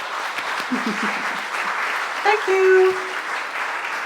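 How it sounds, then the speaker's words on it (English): A forum audience gives a speaker a round of applause, a steady moderate patter of many hands with someone briefly speaking over it near the end. "So give a round of applause for Rachel, please."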